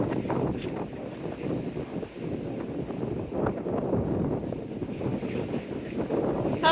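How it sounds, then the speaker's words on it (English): Strong wind gusts buffet the microphone on a seawall beside the sea, with a steady, loud broadband rush and low rumble throughout, plus the wash of waves beneath. "And a very windy Seawall."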